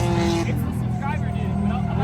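Supercharged G car engine at a drift track day, a loud steady drone with rising and falling tones that continues under voices throughout.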